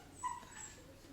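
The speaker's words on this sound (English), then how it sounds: "my dog is crying at my sister wanting kitty snacks" A pet dog whimpers faintly for kitty snacks, a couple of soft high whines over a quiet indoor background.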